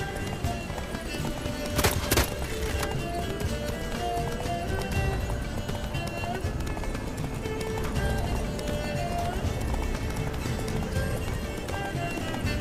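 A horse gallops in the video game The Witcher 3, with steady, continuous rapid hoofbeats loud and close throughout, plus a brief sharp accent early on and a faint voice in the mix.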